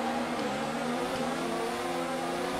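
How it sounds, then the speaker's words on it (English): An F1 car engine in the F1 2019 video game holds high revs at the Mexican Grand Prix start, a steady, loud, buzzing whine with layered harmonics sustained throughout, cockpit view. "Let's get ready for the five red lights as we build up the revs."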